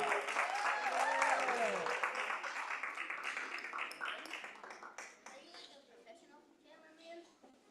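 Audience applause for a live performance at a community tour event, loud broadband clapping that fades over several seconds while a sung or spoken voice with sliding pitch rises over the start.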